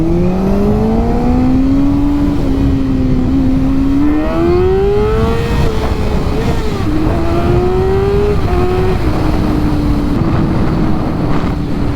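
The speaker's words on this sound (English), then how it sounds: "Oh, that's a race car." A car fitted with a cheap aftermarket eBay exhaust revs and accelerates through several gear changes, its engine note climbing and dropping repeatedly, loud and close throughout with no speech.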